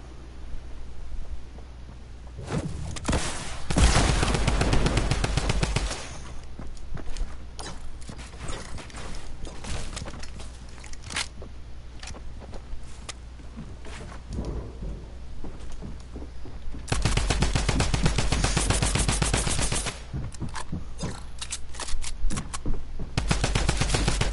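Sustained bursts of rapid automatic fire from a drum gun in a video game, loud and close, with a long volley early on and another heavy stretch later, separated by quieter mechanical clatter.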